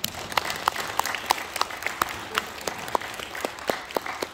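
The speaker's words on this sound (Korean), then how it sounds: "여러분 박수 한번 쳐주십시오." Applause from the gathering at a Korean Presbyterian pastor ordination service in the Gyeonggi presbytery, a dense, steady patter of many hands with sharper individual claps standing out, continuing evenly throughout.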